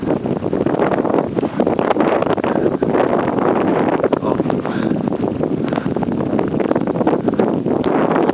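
Blizzard wind blows steadily and loudly past the side of a house during heavy snowfall, a constant broadband rush with buffeting on the microphone and no pauses.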